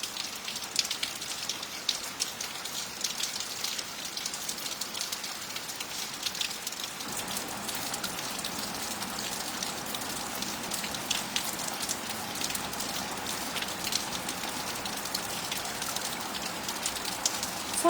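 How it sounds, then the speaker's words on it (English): Steady tropical rain falls on palm trees, a soft, continuous hiss of countless drops pattering on leaves, even and unbroken throughout with no voices. "the way the water hits the palm trees, it's just like the most beautiful sound"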